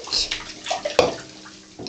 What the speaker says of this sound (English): No, pour water out.